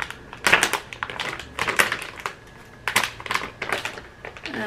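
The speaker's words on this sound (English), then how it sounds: "first let me open the package" Crinkly rustling and crackling of a plastic package of compressed facial masks being torn and pulled open, in several close, bursty handling bursts with short pauses between them.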